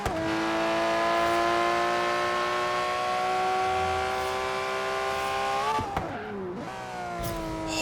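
A naturally aspirated 6.5-litre Lamborghini V12 revs loud and close in a long, steady howl that holds and then climbs sharply before cutting off, with no talking over it.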